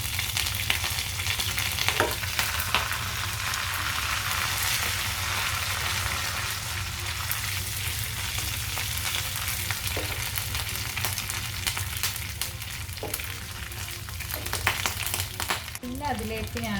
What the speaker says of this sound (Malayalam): നമ്മൾ എണ്ണയിലിട്ട് മൂപ്പിച്ചതിന് ശേഷം നമുക്ക് കുറച്ച് കരിവേപ്പിലയും കൂടെ ചേർക്കാം.